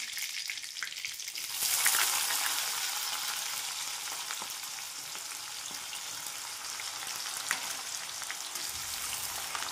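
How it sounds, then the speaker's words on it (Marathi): Cumin seeds, curry leaves and onion frying in hot oil, a dense continuous sizzle, close and steady, with faint stirring touches and no talking. "छान गुलाबी होईपर्यंत तळून घेणार"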